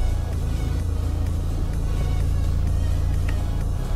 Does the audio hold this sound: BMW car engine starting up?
yes